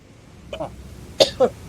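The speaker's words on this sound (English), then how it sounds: "Sorry if I'm coughing or clearing my throat." A person gives a soft throat clear followed by two short, sharp coughs, close to the mic over a quiet background hum.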